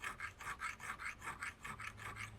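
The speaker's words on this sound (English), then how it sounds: "if this hammer face was as hard as everybody swears it is, I would not be able to cut the face of this off with a file" A smooth-cut Nicholson file rasps across a steel hammer face in about nine even, rhythmic strokes. The scraping is close and clear, with no voices.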